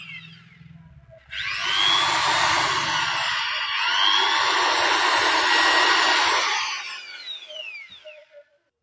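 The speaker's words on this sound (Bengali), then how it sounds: "দেখছেন মেশিনটা চলছে মাথাকে চকটা ঘুরছে" A 10mm electric drill runs with its chuck spinning, giving a loud, steady whirring hum that starts abruptly, holds for several seconds with a slight dip in pitch under load, then winds down, close and alone.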